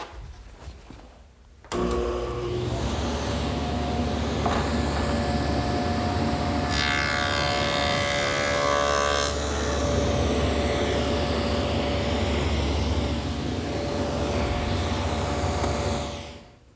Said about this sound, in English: It sits in a rabbet, which I'll make over at the table saw using my dado head cutter.